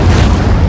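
Incendio fire spell in Hogwarts Legacy, a brief loud whooshing burst with a heavy low rumble, close and sustained through its short length.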